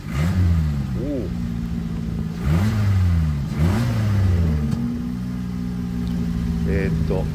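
A Suzuki Swift Sport engine revving repeatedly through a deep Kakimoto Kai single-exit muffler, rising and falling in pitch several times, with people talking over it.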